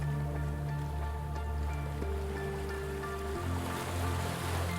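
Sea waves wash in a steady, continuous surge, heard throughout beneath a soft, sustained musical drone.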